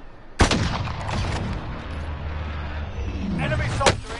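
Gunfire in the video game Call of Duty Warzone, with a sharp close shot, a sustained rumbling battle bed and another crack near the end.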